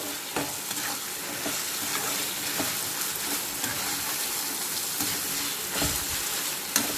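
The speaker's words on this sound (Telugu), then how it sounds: "అల్లం వెల్లుల్లి పేస్ట్ కూడా బాగా నూనెలో వేగాలి" Ginger garlic paste fries in ghee in a pan, a continuous dense sizzle with crackles and occasional stirring scrapes, close and steady with no voices.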